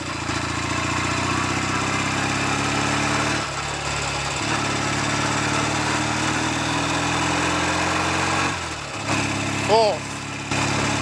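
A Norton Navigator 350 motorcycle with a gearbox fault that has no drive in second runs on a road test. Its steady engine drones loudly and continuously, with brief dips as gears change and a voice talking over it.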